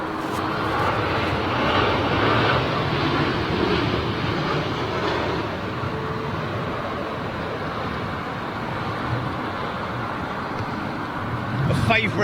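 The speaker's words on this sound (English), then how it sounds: "Oh, this is BEA, this is a retro jet, folks." A BEA retro-liveried jet airliner roars loudly on arrival at London Heathrow on a windy day, a steady broad engine rumble that swells toward the end, with a commentator talking over it.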